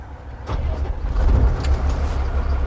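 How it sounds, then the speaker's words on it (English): A Gradall vehicle idles with a steady low engine rumble as the clutch is pushed in, a continuous close mechanical drone with no talk over it. "So with the vehicle started, obviously push the clutch in."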